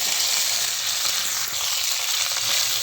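Curry leaves and dried red chilies stirred in hot oil for papaya pickle give a loud, steady hiss of frying that fills the whole stretch, with faint stirring scrapes underneath.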